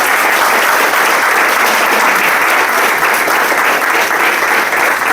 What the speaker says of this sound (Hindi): एक बार उस शख्स के लिए जोरदार ताली बजाओ जिसने आपको यहां बुलाया है।